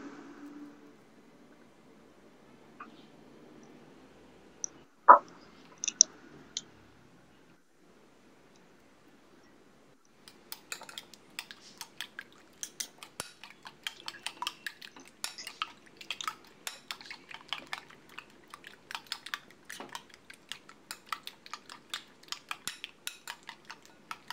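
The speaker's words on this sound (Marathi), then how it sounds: "त्यामध्ये चवीपुरते मीठ, अर्धा कांदा व 1 मिरची बारीक चिरून घाला आणि चांगले फेटून घ्या." Eggs with salt, chopped onion and chili are whisked in a bowl for a Goan ros omelet, a quiet stretch with a few clinks giving way to rapid, light, rhythmic tapping of the whisk against the bowl.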